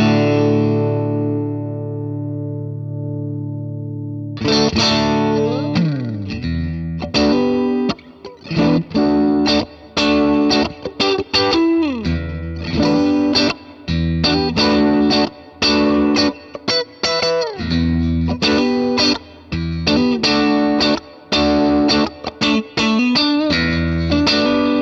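Electric guitar played through a NUX Amp Academy amp-and-cabinet emulator pedal with overdrive engaged: one sustained chord rings out, then a long run of choppy, palm-muted riffs and stabs with abrupt stops, loud and alone.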